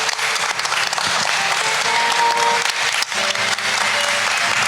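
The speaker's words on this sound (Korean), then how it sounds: "큰 박수로 환영해 주시길 바랍니다" A crowd at a student art competition event in Jeju claps loudly and continuously to welcome an artist. The dense applause fills the whole short stretch without pause.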